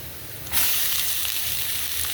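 Food frying in a pan for egg fried rice, near-quiet at first, then a loud sizzle bursts in after half a second and holds steady, with no talk.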